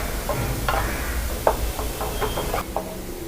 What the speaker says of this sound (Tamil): ஆயில் மேலே வர வரைக்கும் நல்லா கொதிக்கணும்.